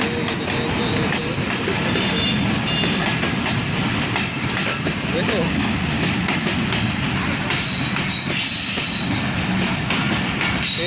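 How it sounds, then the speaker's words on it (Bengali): A train rolls past on the rails nearby with a loud, continuous roar of wheels, rattling cars and squealing steel. It stays steady the whole time, and a voice briefly speaks once over the noise. "ওই যে ট্রেন চলে আসতেছে আমাদের কাছে"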